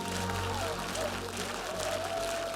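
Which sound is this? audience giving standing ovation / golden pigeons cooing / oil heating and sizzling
audience giving standing ovation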